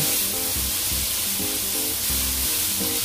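Dried shrimp and sliced red chili sizzling in a pan while being stirred, a constant frying hiss with repeated soft scraping strokes.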